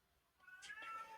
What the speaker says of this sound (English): if you guys can hear my cat in the background too